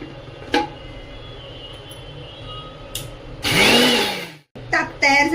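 Half a bowl of curd being whisked lightly by hand into buttermilk in a home kitchen, a short burst of stirring and sloshing close by, with someone talking before and after.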